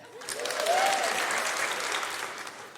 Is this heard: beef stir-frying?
no